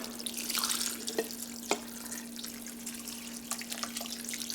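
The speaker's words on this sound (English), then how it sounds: "I have homemade chicken broth here, and I'm just going to" Homemade chicken broth poured into a crock pot of split pea soup with a ham bone, a soft steady liquid pour with a couple of splashy drips, fairly quiet and close, under a faint steady hum.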